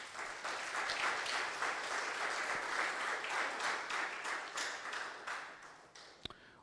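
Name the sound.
audience applause in church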